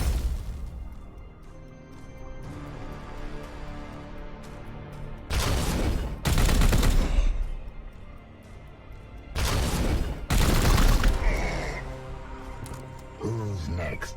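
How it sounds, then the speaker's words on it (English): Gunfire and explosive impacts in the tactical video game Warhammer 40,000: Chaos Gate - Daemonhunters, two loud blasting bursts over a rumbling battle bed, with voices speaking throughout. "Firing on target!"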